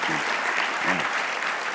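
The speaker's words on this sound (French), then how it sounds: "Est-ce qu'on peut applaudir le Seigneur?" A church congregation claps during a service with a guest preacher, dense steady applause with a brief voice rising beneath it.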